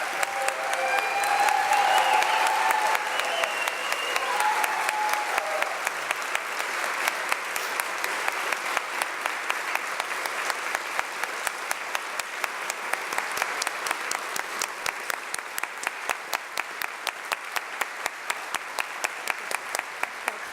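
Sustained applause fills a session of the Oklahoma House of Representatives honoring a veteran, dense clapping from a large room that stays steady and full throughout, later thinning into more distinct individual claps.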